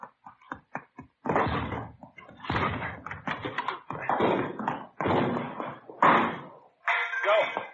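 Several heavy thuds and bangs strike in quick succession, loud and close, like a door being battered and forced open, with shouting voices around them.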